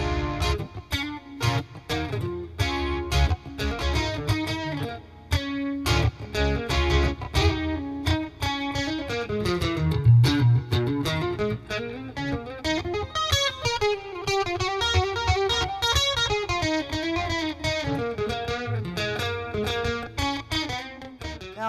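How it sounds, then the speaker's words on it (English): Distorted electric guitar, an Ibanez Montage, playing a lead line with gain, gritty and sustained with shimmering chorus and a reverb tail, running continuously and loud. "I'm just going to play a simple lead so you can hear what the gain sounds like"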